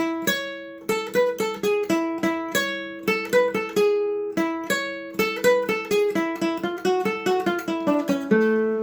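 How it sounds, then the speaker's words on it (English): Rapid single-note flamenco guitar straight picado picking in quick runs of plucked notes, bright and ringing, played alone without any voice. "because if I did straight picado, it would sound like this"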